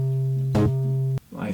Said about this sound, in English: You choose the wrong module and your bass sounds like this.